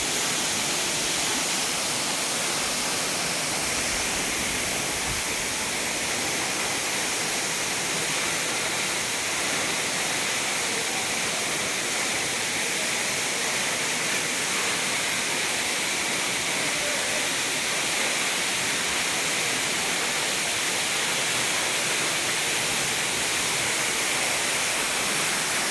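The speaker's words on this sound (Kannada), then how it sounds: "ಈ ಫಾಲ್ಸ್ನ ಹೆಸರು ಲಾಯ್ ಫಾಲ್ಸ್." Loy Falls pours down in a steady, broad rushing roar that fills the whole stretch without a break, constant and hissing, with no voices over it.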